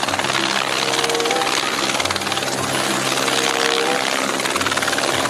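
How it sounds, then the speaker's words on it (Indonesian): A loud, continuous whirring buzz like a small toy helicopter's motor, running steadily with slight pulsing throughout. "Lihat, ada helikopter warna merah."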